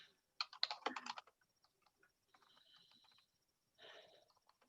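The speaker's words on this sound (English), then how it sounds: "You can see my bad typing since I'm doing this live." Live typing on a computer keyboard during an online working-group meeting: a quick burst of close clicky keystrokes, then softer scattered taps and two faint stretches of typing, quiet overall with no talk.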